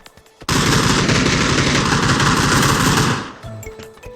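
Automatic gunfire in PUBG Battlegrounds bursts out as a dense, loud, continuous stream of rapid shots for about three seconds, then cuts off to quieter game sounds.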